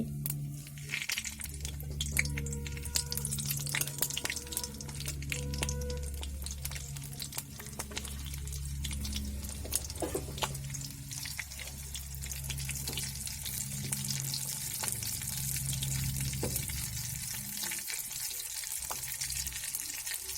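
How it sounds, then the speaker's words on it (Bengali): Nigella seeds and slit green chillies crackling in hot oil, a steady close sizzle with bright pops throughout, over a low rhythmic hum in the background. "তেলটা গরম হয়ে গেছে আমি কালো জিরেটা দিয়ে দিচ্ছি চেরা কাঁচা লঙ্কাগুলো দিয়ে দিচ্ছি"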